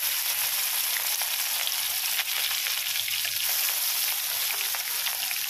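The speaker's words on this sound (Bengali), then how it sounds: "এখানে আমার তেলটা গরম হয়ে গেছে, এর মধ্যে নুন হলুদ মেখে রাখা আমি কই মাছটা দিয়ে দেবো।" Salt-and-turmeric-coated climbing perch (koi fish) sizzle in hot oil, a bright, steady hiss of frying that stays even and close throughout with no voices.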